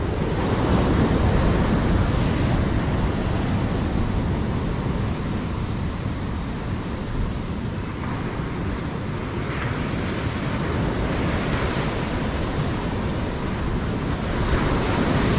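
Large ocean waves break continuously on the quiet Tawang Katipugal beach in Pacitan, a loud, steady roar of surf mixed with wind buffeting the microphone.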